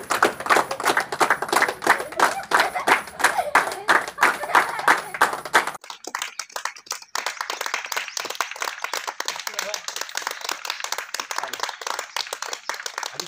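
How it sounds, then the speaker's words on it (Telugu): Villagers in Thimmapur Thanda clap from their houses, a steady rhythmic patter of many hands, dense and fairly loud at first, then a more scattered, thinner spread of claps continuing after a brief break. "తిమ్మాపూర్ తండాలో ప్రజలు వారి వాళ్ళ ఇళ్లకి చప్పట్లు కొట్టి అభినందించారు."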